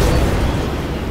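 Creature blowing up from a flare gun shot in Pacific Drive, a loud, dense, roaring blast filling the whole moment.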